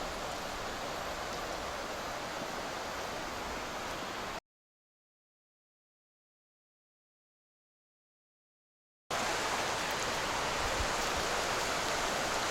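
Stream water rushing beside a hiking trail on the Old Loggers Path in Pennsylvania, a steady broadband hiss of flowing water heard close up, broken by a gap of silence midway and then resuming at the same level.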